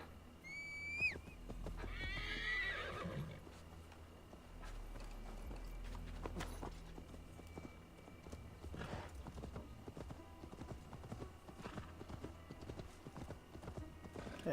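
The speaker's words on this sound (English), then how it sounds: "Let's ride the horse." A horse in the Viking-era game Assassin's Creed Valhalla whinnies with a rising, wavering call, then clip-clops along at a steady pace, hooves thudding over a busy background of ambient game sounds.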